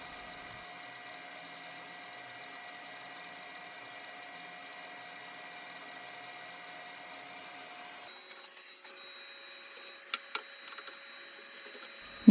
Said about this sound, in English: Now I'm going to use a negative rake scraper just to get rid of any little ridges or grooves that were left behind from the gouge.